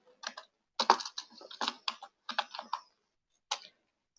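Keys clack on a computer keyboard as code is typed, in short quick bursts separated by brief pauses, close and clear in a quiet room with no talking.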